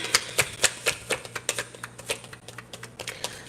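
A deck of tarot cards is shuffled by hand in a quick run of crisp, riffling flicks and slaps, close and fairly quiet, with no talking.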